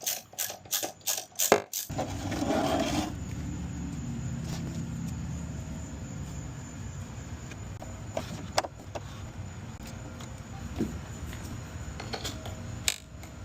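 Reinstalling the air filter housing and tightening hose clamps on a Honda Odyssey: a burst of rapid ratcheting clicks, then low rumbling handling of plastic parts with scattered small clicks and knocks, close and fairly quiet.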